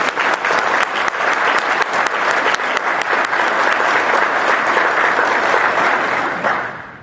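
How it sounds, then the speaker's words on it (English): An audience at a chamber of commerce morning coffee gathering breaks into sustained applause, dense and even throughout before trailing off at the end. "can we just give those guys a round of applause?"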